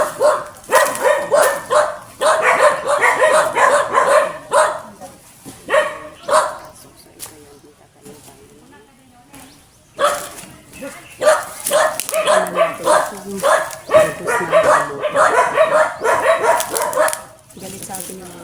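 Several dogs bark repeatedly on a rural farm plot in the Philippines, the barking coming in bursts with short quiet gaps, mixed with people talking.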